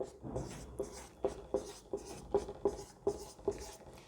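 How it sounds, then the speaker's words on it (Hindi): Pen or pencil writing numbers by hand on paper, a run of about ten rhythmic scratchy strokes close to the microphone, with no talking. "अब पहले हम लिख के देख लेते हैं"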